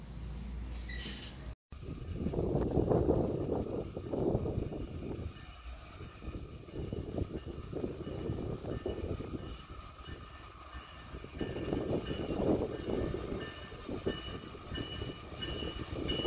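Loaded iron ore freight train on the MRS line, led by an SD70LC diesel locomotive, rumbling past steadily with the heavy roar of engines and wagons swelling and easing over the whole stretch.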